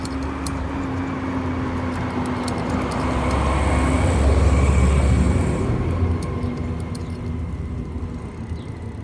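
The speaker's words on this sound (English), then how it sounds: "terrible timing for a garbage truck. Let's see if it passes by." A garbage truck passes outside: a broad, rumbling vehicle noise swells to a peak midway, then eases off as it moves away.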